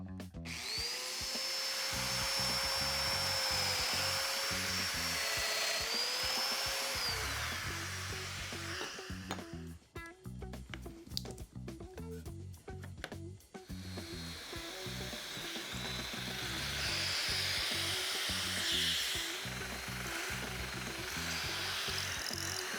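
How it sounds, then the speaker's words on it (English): Power tool cutting mortises in wood for a mudroom cabinet: a loud, steady machine drone with pulsing low-end rhythm runs through most of the stretch, briefly choppier in the middle before resuming. "So now I'll just finish up the mortises on the bottom portion."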